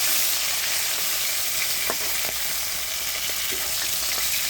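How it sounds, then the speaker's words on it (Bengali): Fish pieces frying in hot oil in a pan as they are turned over, a loud continuous sizzle with a few soft knocks from the flipping. "এই যে আমি মাছগুলো উল্টিয়ে দিচ্ছি।"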